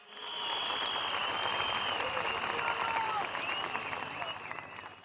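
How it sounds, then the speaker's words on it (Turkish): Crowd applause in solidarity with journalists at a political gathering, a thick sustained roar of clapping that swells quickly, holds for several seconds at moderate distance and gradually thins toward the end. "bir kuvvetli dayanışma alkışı"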